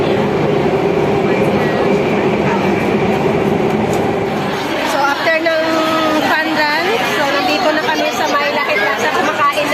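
Singapore MRT Circle Line subway train rumbling through an underground station, with a steady low roar and a rising squeal as it moves, under nearby chatter and talk from passengers.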